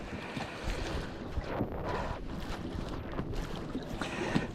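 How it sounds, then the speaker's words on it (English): Low rumble of wind and open water on lake Vänern, heard from a kayak, with a faint boat motor humming in the distance under gusty microphone buffeting. "there's actually a boat on the water"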